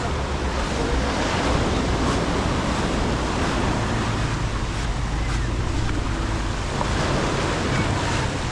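Surf breaking on Miami Beach at Batu Ferringhi, Penang, Malaysia, a steady continuous wash of waves with wind rumbling across the microphone, loud and unbroken throughout.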